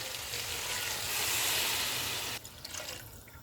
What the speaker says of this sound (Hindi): अब हम इसमें यखनी डाल देंगे,